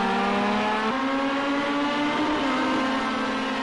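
Race cars accelerating around the Oschersleben circuit, a loud continuous high engine whine with the pitch climbing and shifting through gears, several cars blending close together, no commentary heard.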